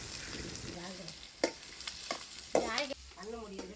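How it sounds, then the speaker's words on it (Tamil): Onions sautéing in a pan for a village-style red beans gravy, a steady close sizzle with a few stirring clinks of a utensil, under intermittent talk. "வெங்காயம் வந்து பார்த்திங்கன்னா நல்ல பொன்னிறமாக வந்து வர வரைக்கும் வதங்க விடுங்க"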